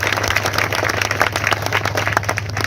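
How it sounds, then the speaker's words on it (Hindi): An audience at a motivational talk claps in a dense, continuous burst of applause that holds steady throughout, with no speech over it. "एक बार दिल की गहराइयों से उनके सम्मान में तालियां बजाइए"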